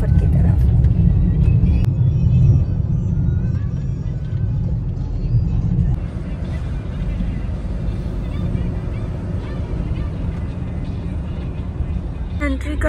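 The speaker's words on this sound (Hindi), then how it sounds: "सिटी में सिवाय ट्रैफिक के और कुछ नहीं है" City road traffic heard from inside a moving vehicle, a continuous dense low rumble of engines and tyres that eases slightly partway through, with no talk over it.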